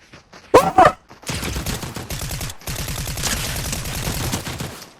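Fortnite gunfire: a sharp loud burst early on, then sustained rapid automatic fire rattling steadily for several seconds, with faint talk mixed in.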